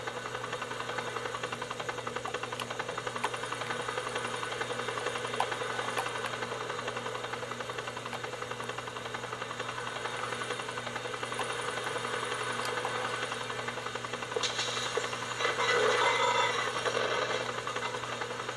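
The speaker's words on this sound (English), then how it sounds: "I guess we could park this helicopter right down here." Helicopter engine in the video game Grand Theft Auto IV: a continuous, even, buzzing drone with a fast rotor-like pulse, moderately loud and steady throughout, briefly rising and roughening near the end, with no talking.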